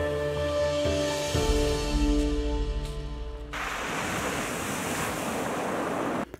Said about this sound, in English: the sound of the waves was so strong that you can't even hear what I'm saying